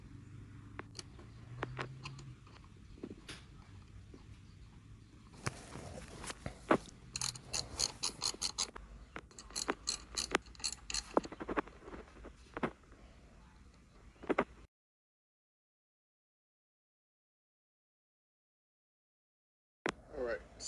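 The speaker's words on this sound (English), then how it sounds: "it's time to get screws in a 7mm socket" A ratchet with a 7mm socket turns screws on a Chevy HHR windshield wiper transmission assembly, giving bursts of quick close clicking between quieter handling noises and brief talk, then falling silent.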